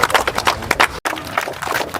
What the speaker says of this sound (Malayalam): കൈയടി കൈയടി